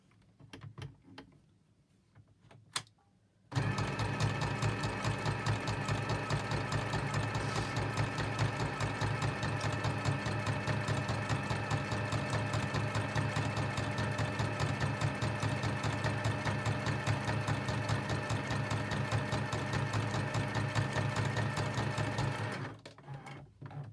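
Close and loud, a sewing machine runs zigzag stitches around a paper tag and ephemera holder for about nineteen seconds in one unbroken rapid, rattling hum, starting and stopping abruptly with quiet handling before and after.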